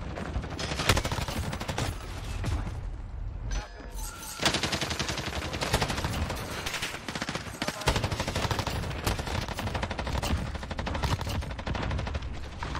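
Bursts of rapid automatic gunfire from a new weapon in the video game Modern Warfare, sharp and loud, firing in long sustained strings with one short pause near the middle.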